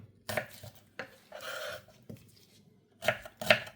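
A knife chops onions on a board in short bursts of sharp, close knocks, with a brief scraping stroke between the rhythmic cuts and a final cluster of loud chops.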